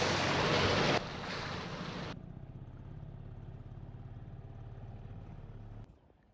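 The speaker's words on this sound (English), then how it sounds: "now it's white seas and a lot more windy." Strong wind and choppy whitecapped sea around a sailboat near an anchorage bay, a loud roaring gust with wind buffeting the microphone that drops after two seconds to a steadier rush of waves and water, then cuts off abruptly.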